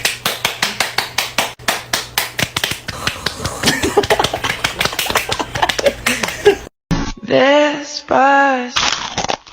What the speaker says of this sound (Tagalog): Pumalakpak tayo, dali.